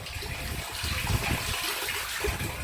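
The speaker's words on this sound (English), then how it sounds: "Can you hear the water?" Municipal water rushes steadily through a pipe after a valve is turned back on, a continuous close, hissing gush with small gurgles and no voices.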